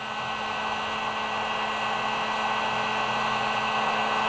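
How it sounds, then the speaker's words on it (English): A heat gun blows steadily and loudly at close range while warming a nylon fuel line from a Vespa GTS EFI fuel pump. The even, unbroken whoosh holds throughout. "Either boiling water or heat gun, and we'll go ahead and heat this up."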